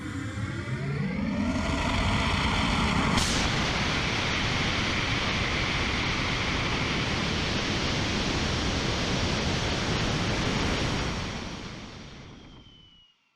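A student-built rocket motor ignites with a sudden loud roar and burns as a steady, dense, hissing blast for about ten seconds, then tapers off and cuts out.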